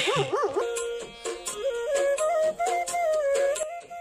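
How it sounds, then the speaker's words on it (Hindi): Dogs in a hill village in Uttarakhand give a run of high yips and whining barks, some wavering and drawn out, close and fairly loud, with several sharp short barks in between and no talk. "ये दो कुत्ते ओ ये ऊपर भाई डर बहुत लग रहा भाई"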